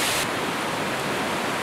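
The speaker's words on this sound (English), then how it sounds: "because it's quite a large waterfall" Steady broadband roar of a large waterfall pouring into a pool along a Pennsylvania brook trout stream, continuous and close, with no voices.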